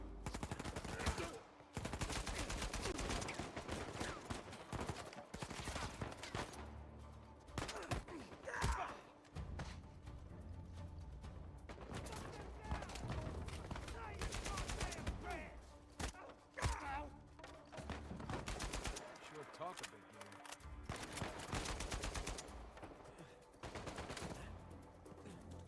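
Gunfire in the video game Uncharted 4 comes in repeated loud bursts and rapid volleys, with thuds and brief quieter gaps between the fights.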